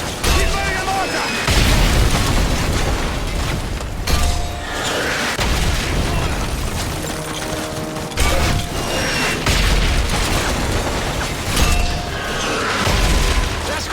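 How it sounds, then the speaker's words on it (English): Mortar shells exploding one after another in Call of Duty Modern Warfare, repeated deep booms every few seconds amid battlefield rumble and mechanical noise, with voices talking over it. "If it moves, put a mortar shell on it."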